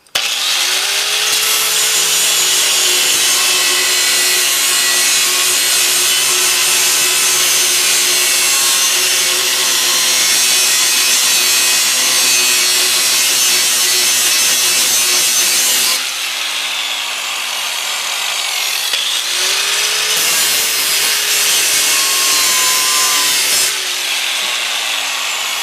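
A power saw cuts through the metal side of a restoration project, a loud continuous grinding whine held for about sixteen seconds, then stopping briefly before two shorter cutting bursts follow.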